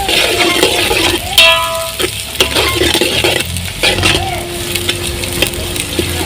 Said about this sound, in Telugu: ఇప్పుడు కలుపుతున్నారు వాటిని. గోల్డెన్ బ్రౌన్ వచ్చే వరకు కలపాలండి.